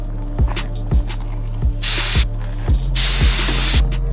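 A spray gun lays jet black paint onto BMW 750i E65 sensor covers, with loud bursts of close hissing spray over a rhythmic mechanical thumping from the compressor or gun.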